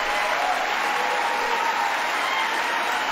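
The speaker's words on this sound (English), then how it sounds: "We have a few sitting claps." Applause at the State of the Union, a dense, continuous wash of clapping from a large chamber crowd, steady and even without pause.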